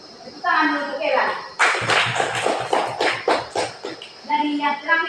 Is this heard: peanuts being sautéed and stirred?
no